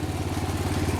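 A 1966 Wheel Horse garden tractor engine, driving a hydraulic pump, runs at a steady idle with a fast, even low chugging pulse and mechanical clatter, close and alone.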